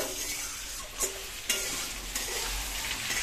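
Potato and pumpkin fry in a pan with a soft, steady sizzle, broken by a few sharp stirring clinks and scrapes close by.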